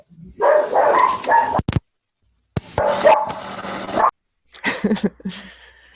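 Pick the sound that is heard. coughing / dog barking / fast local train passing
dog barking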